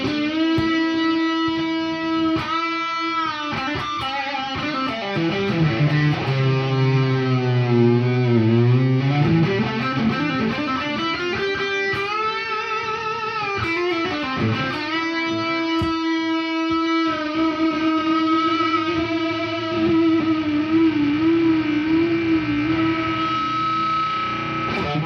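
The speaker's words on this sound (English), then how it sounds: "You can throw some of this here echo on and turn some distortion on" An electric guitar plays through distortion and echo pedals, heavily distorted, notes bending and sliding with repeating trails, loud and continuous without any voice.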